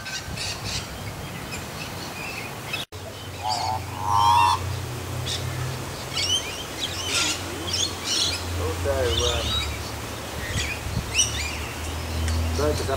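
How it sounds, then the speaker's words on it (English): Birds chirp and squawk in scattered bursts outdoors under a flowering jacaranda tree, with a low rumbling background and occasional nearby voices. "Birds making a noise now."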